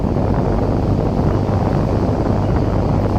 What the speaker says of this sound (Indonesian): Ada angin